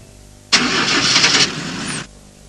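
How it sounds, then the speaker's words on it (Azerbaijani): A car engine cranks and catches, then roars loudly for about a second and a half before cutting off abruptly, heard alone with no voices. "Rəsul, tez maşını xoda sal."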